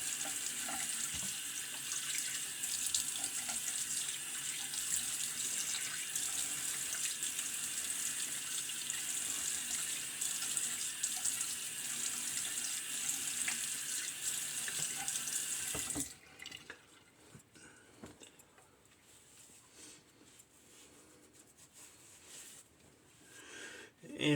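Tap water runs steadily into a sink to rinse a razor during a wet shave, a close, even hiss that cuts off partway through, leaving faint handling noises.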